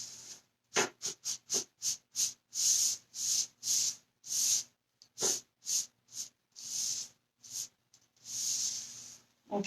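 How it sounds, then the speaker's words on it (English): A spray bottle mists over a wooden coffee table as it is being cleaned, giving about twenty short hissing bursts in an uneven rhythm, some quick and clipped and others longer, close and fairly soft. "I'm going to give this a little bit of a mist"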